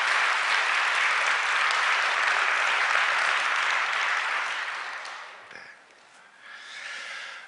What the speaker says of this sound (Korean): 뜨거운 박수로 환영하겠습니다